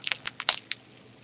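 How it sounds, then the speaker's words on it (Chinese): Foam slime with tiny ice-like bits and glitter is stretched, giving a string of quick, close crackling and crunchy rustles that burst in short clusters and then fade to near quiet. "这个拉伸起来也有沙沙的声音耶"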